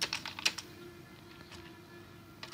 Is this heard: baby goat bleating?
no